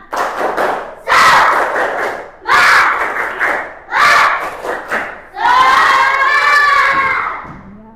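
Indonesian schoolchildren in a classroom perform a rhythmic spirit clap, with loud bursts of group clapping and shouting in short beats, then a long, drawn-out cheer at the end.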